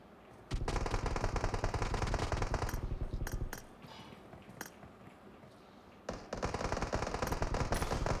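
Rapid automatic gunfire sprays in the BGMI mobile battle royale game, two long bursts of fast shots separated by a quieter stretch with a few scattered single shots.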